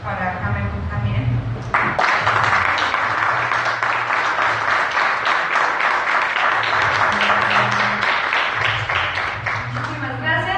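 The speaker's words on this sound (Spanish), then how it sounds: "Les pido un fuerte aplauso para Camel Books también." Audience applause at a book presentation for Camel Books fills the room as dense, steady clapping for several seconds, loud and close, with a voice speaking at the start and end.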